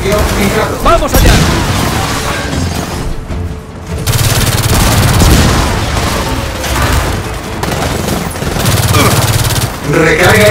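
Loud, dense gunfire fills a Gears of War 4 firefight: rapid automatic bursts and heavy booms run almost nonstop, with a brief lull, and voices shout faintly underneath.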